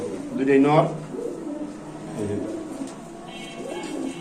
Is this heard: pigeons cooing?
yes